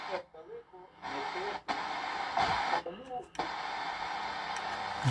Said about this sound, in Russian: Значит, радио работает.